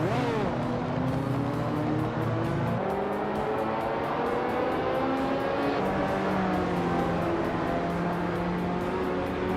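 A Ferrari 308 GTS race car drones steadily at high revs during a race, its engine note shifting pitch through gear changes and surging with other cars in a constant roar.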